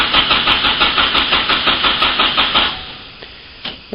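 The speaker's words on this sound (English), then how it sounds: "each time you leave it, when it first cranks, it actually cranks more quickly" Car engine cranked by the starter on a lithium ion battery, a loud close rhythmic whirring with quick even pulses for about three seconds, then stopping, followed by a faint clunk.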